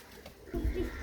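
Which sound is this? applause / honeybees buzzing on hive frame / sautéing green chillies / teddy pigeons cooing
teddy pigeons cooing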